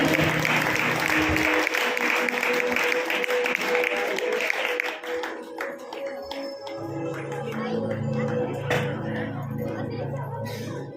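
Audience applause at a girls' stage skit of the birth of Jesus, a dense burst of clapping that thins after about five seconds into scattered claps and low murmuring voices.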